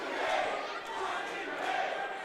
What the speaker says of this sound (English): The crowd letting Patrick Hayes know he's number one